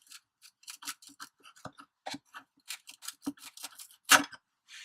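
Wood being carved by hand for a whirligig, a run of short, crisp scraping and shaving strokes at an irregular pace, close and fairly quiet, with one louder cut near the end and no talking.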